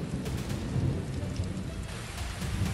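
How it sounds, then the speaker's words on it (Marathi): Heavy pre-monsoon May rain in Maharashtra pours steadily while deep thunder rumbles low and continuous underneath, with no voices. "ढगांचा गडगडाट, विजांच्या कडकडाटासह आलेल्या पावसानं"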